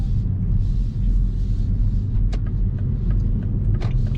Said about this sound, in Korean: 일단 한번 도심 구간에서는 그린 모드로 주행을 해보겠습니다